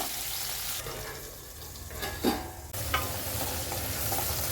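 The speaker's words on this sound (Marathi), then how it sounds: "भेंडी आपली छान फ्राय झालेली आहे" Okra frying in a pan with salt and masala, a steady soft sizzle with occasional stirring scrapes, close and alone, with no voices.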